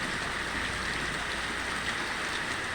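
Steady, dense rain pours down over a flooded village with rice fields, a constant close hiss with no pauses or voices.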